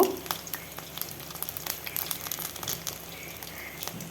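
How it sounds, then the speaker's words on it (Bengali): Pointed gourd and green chilli chops frying in hot oil over a medium flame, a soft continuous sizzle with small crackling pops, close and fairly even in level, heard alone without speech. "এইভাবে আমি উল্টি পাল্টে ভেজে নেব"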